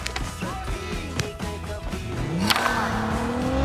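A car engine in a shooter video game rises in pitch while revving as the vehicle speeds up, mixed with clatter and other game noises, then settles into a louder steady drone.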